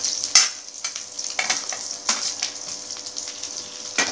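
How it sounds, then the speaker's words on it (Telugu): Onion pieces sizzle in a hot tempering of oil and spices for radish sambar, a close, steady frying hiss broken by several sharper bursts as the pan is stirred. "ఇప్పుడు పోపు అంతా వేగిపోయింది కాబట్టి మనం ఉల్లిపాయ ముక్కలు వేసుకొని కొద్దిగా ఫ్రై"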